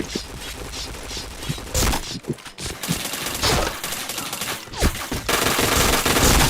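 Rapid bursts of automatic gunfire in a shooter video game, with loud dense volleys, short gaps and echoing shots throughout.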